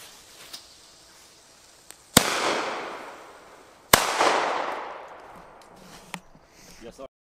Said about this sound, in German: So, jetzt hier die Fire Event Oldschool Böller.